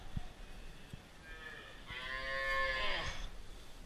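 A calf moos once, a drawn-out nasal bellow rising and falling, fairly close over quiet background noise.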